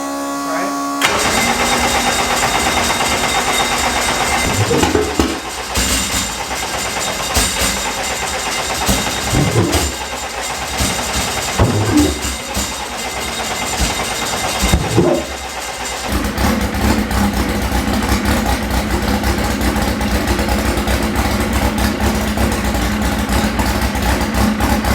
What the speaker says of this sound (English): to heat up the motor before throwing the fuel in it and then getting it to fire up